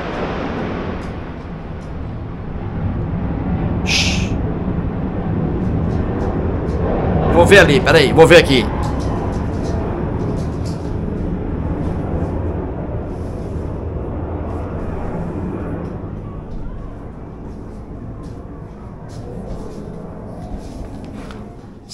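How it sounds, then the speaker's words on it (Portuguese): A low, broad roar of Brazilian Air Force military aircraft passing overhead near Brasília airport, swelling and fading over about twenty seconds, with a person speaking quietly nearby. "são aviões da Força Aérea Brasileira, viu? Não são aviões comerciais, não."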